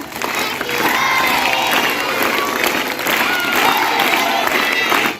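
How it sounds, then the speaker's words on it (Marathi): A crowd claps and cheers loudly for several seconds, with overlapping voices and shouts mixed into the applause, three rounds of clapping at a birthday celebration in Paranda. "तीन टाळ्या वाजून सर्वांनी साजरा करा"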